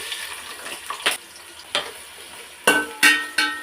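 Sliced onions frying in oil with cloves and cardamom for chicken biryani, a soft steady sizzle broken by several sharp scraping stirs of a spoon in the pan, close and alone.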